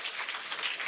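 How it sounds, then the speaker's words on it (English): Brief, faint burst of audience clapping for a woman volunteer at a public talk, a soft, steady patter lasting under a second with no voices over it. "give her a big clap"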